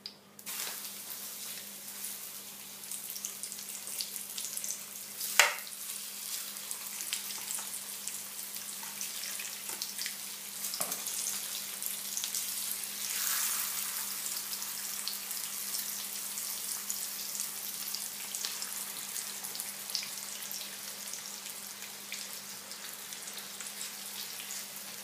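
A crumbed chicken fillet fries in a pan with a soft, steady sizzle and a few faint pops. The sound stays quiet throughout.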